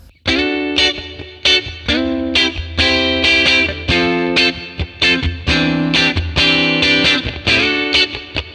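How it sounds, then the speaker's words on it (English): Electric guitar through a Fender 1957 Tweed Bassman amp model with reverb added, rhythmic strummed chords and single notes at a clean edge of breakup, ringing with a reverb tail, played alone with no talk. "Let's add some reverb."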